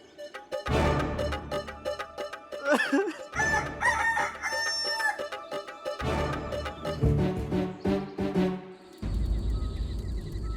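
A rooster crows loudly several times, with hens clucking in between and around the calls, close by.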